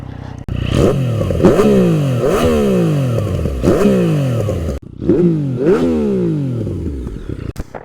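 A Yamaha XSR900 motorcycle engine revs repeatedly, each blip rising sharply and falling away in a loud, close series of surges with a short gap midway.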